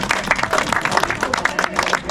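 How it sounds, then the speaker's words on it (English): A small tour group at the Mystery Spot in Santa Cruz claps together, a close burst of quick, uneven individual claps that rise and fall over two seconds. "can you all put your hands together and point in this direction and start clapping"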